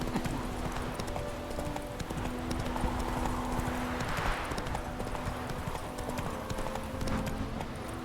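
Roach, the horse in The Witcher 3, gallops with a steady, rapid clip-clop of hooves over a dense ambient wash from start to finish.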